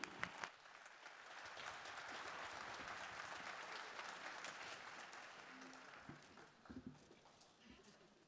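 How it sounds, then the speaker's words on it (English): An audience applauds a high school show band before a holiday performance, a broad continuous wash of many hands clapping at moderate distance, holding steady and then thinning out toward the end. "Let us give them a nice round of applause"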